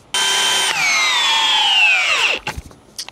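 Loud, steady whine of a Bosch 1330c drill in speed 2 drill mode driving an 8-inch spike, the pitch slowly sagging under load until the motor stalls and stops, followed by a few faint knocks.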